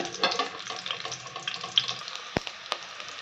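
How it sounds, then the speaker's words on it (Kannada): Onions frying lightly in a pan for a ridge gourd masala curry, a soft steady sizzle with small crackles and a couple of sharp clinks, heard alone without talk. "ಈಗ ಇದಕ್ಕೆ ಸ್ವಲ್ಪ ಈರುಳ್ಳಿ ಹಾಕ್ಕೊಳ್ಳೋಣ. ಇದು ಸ್ವಲ್ಪ ಲೈಟಾಗಿ ಫ್ರೈ ಆಗಲಿ"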